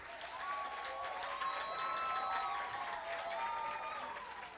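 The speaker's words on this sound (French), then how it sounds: "Podium Quartier, on applaudit très fort." A studio audience at a lively TV show, Podium Quartier, applauds in a continuous wash of clapping. Scattered whoops and cheers rise over it, heard fairly faint and distant throughout.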